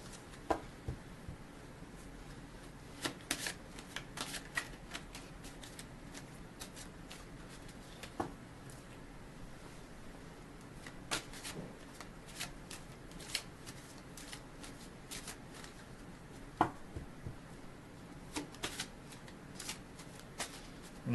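A deck of relationship cards being shuffled, quiet close riffles and soft snapping flicks in irregular bursts over a near-silent room.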